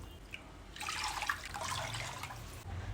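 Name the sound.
water being poured into a pot for cooking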